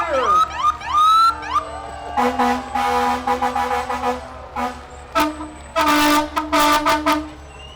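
Several sirens wail and whoop close by at a Fourth of July parade, rising and falling in loud bursts, with horn-like blasts interrupting them.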